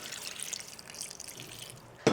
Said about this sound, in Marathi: तर यामध्ये पाणी घालायचं आहे थोडंसं